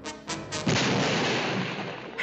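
A cartoon gunshot from the inspector's pistol in an animated short, a few quick sharp cracks followed by a loud, booming blast that rumbles and decays over about two seconds.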